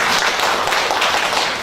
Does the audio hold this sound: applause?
yes